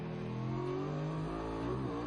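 A Ducati Superleggera 1299 twin-cylinder engine revs in the racing game Ride 2, a steady loud engine note rising in pitch, close and continuous with no talk.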